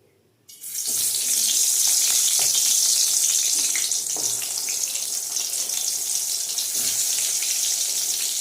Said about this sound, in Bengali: তেল গরম হয়ে গেছে এবার এক এক করে বেগুনগুলো দিয়ে ভেজে নেব